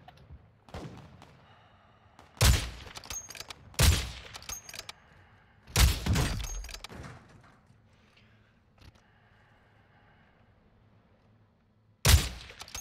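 Sporadic bursts of gunfire ring out in Warzone 2, four or five sharp volleys spaced seconds apart against a quiet background, fairly close and punchy.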